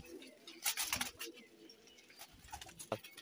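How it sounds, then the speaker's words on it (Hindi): Golden pigeons, a group of about ten kept for sale, cooing softly and fairly faintly, with low repeated coos and light rustling against a quiet background. "माशाल्लाह गोल्डन कबूतर है"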